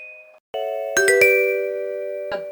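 A bells voice played on a cheap $31 keytar knockoff, bright bell-like chimed notes that ring out and sustain, a short pitched note first, then several struck tones stacked and decaying cleanly with no talk.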